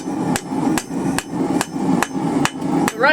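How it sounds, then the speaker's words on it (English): Seven evenly spaced light hammer taps ring out on a forged steel offset held over the anvil edge while a hanging hook is shaped, each strike sharp and close with a short metallic ring between blows. "we're taking it with our offset right over the edge of the anvil there, and then lightly tapping that down"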